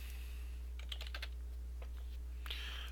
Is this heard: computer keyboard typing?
yes